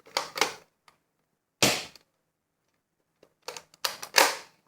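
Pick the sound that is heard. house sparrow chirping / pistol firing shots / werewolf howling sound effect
pistol firing shots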